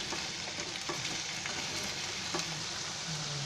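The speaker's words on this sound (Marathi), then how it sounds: "आता बटाटे वांगे आहेत ना तेलामध्ये टाकले आहे." Potatoes and brinjal frying in hot oil, with a dense, steady close sizzle throughout and a few faint stirring clicks.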